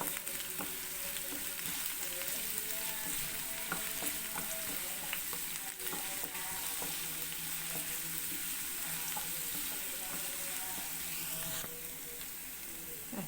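Sliced onions sautéing in a frying pan with green chilli, a steady sizzle throughout with frequent scraping stir strokes, close and continuous.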